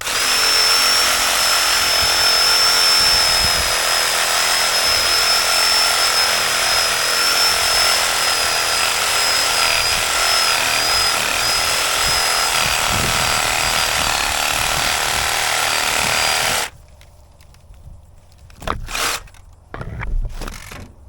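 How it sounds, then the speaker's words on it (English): Sawzall reciprocating saw cutting through bamboo outdoors, a loud continuous buzzing rasp with a steady high whine for about sixteen seconds, then stopping abruptly, followed by a few faint knocks and rustles. "now I'm going to give it a little cut with the Sawzall"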